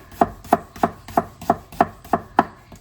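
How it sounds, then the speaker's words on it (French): Garlic cloves finely minced with a knife on a cutting board, with seven crisp, evenly spaced chops in a steady rhythm, close and clear, no talking. "on va le ciseler comme pour ciseler un oignon"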